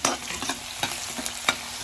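Chopped onion and green chili sizzle in hot oil while being stirred for a Punjabi kadhi tadka, a steady close frying hiss broken by a few scraping stirs of the spoon.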